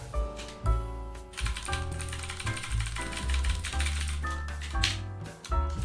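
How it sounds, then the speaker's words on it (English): Keys on a loud computer keyboard clatter in quick, irregular bursts of sharp mechanical clicks, heard close up and mixed with ringing tonal sounds. "I think a louder keyboard would be cooler."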